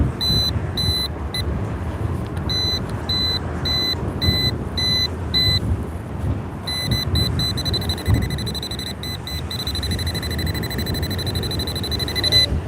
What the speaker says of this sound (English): you can hear the frequency of the beeps